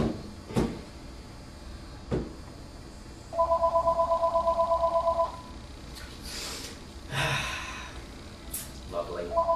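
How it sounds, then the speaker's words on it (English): A telephone rings indoors in a repeated warbling burst lasting about two seconds, fairly loud over low room noise, with a few knocks, a cupboard-like bump and faint breathy sounds around it. "There's that phone again."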